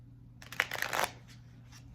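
Shiny, hard-to-shuffle tarot cards being shuffled by hand in a quiet room: a brief flurry of riffling and sliding card noise lasting about a second, followed by quiet and a short sharp tap at the end.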